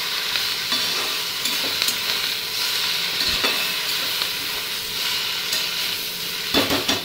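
Spices and a fish head fry in a pan for a Bengali home meal, a continuous close hissing sizzle with occasional scraping and clinks of a stirring utensil, no voices.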